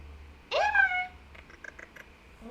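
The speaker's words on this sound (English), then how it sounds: "I want to show you my kitty." A pet cat gives one clear, rising meow up close in a quiet indoor room, followed by a few faint chirpy sounds; no one speaks over it.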